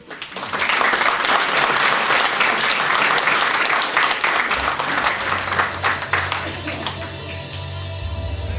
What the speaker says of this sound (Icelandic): Gefið gott klapp fyrir kynni ykkar,